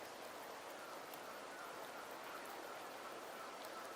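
Steady rain falling in the world of the Wuthering Waves video game, a dense continuous hiss of drops with no other sounds, even and unbroken throughout.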